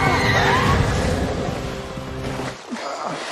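Horses in a fantasy TV series scene neigh and whinny loudly, with clip-clop hooves and a rushing outdoor background before the sound drops and shifts.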